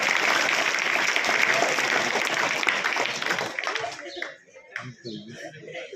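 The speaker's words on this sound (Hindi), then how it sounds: "ताली बजा दो मैडम की।" Students clap for a teacher at a school event in India, a dense burst of applause that dies away after a few seconds into scattered claps and nearby voices.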